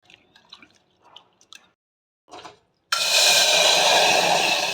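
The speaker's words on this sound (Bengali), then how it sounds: "ডালটা ভালো করে পরিষ্কার করে 2-3 বার এটাকে ধুয়ে নেব, দিয়ে জলটা ফেলে দেবো" Rinse water pours off washed masoor lentils in a sustained, steady gush that begins abruptly after a few faint earlier handling sounds and splashes.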